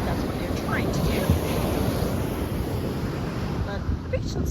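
Surf rolls onto a beach in the aftermath of Hurricane Ian, a steady, full wash of waves mixed with wind rumble on the microphone, constant throughout the short stretch with no voices.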